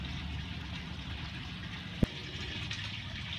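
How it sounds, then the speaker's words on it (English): Water trickling steadily through a spreader in a school greenhouse aquaponics system, a soft continuous flow with one brief knock partway through, faint and close. "we have water coming all around two sides"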